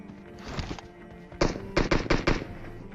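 Gunfire in the mobile battle-royale game PUBG Mobile near a warehouse: one muffled volley, then a single sharp shot followed by a rapid cluster of loud cracks, over a low background rumble.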